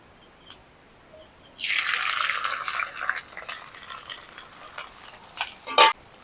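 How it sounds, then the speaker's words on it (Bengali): Shrimp drop into hot oil in a wok and erupt into a loud sizzle that gradually settles into softer crackling, with a few small clinks at the end. "তেলটা গরম হয়ে গেছে প্রথমে চিংড়ি মাছগুলোকে ভেজে নেব"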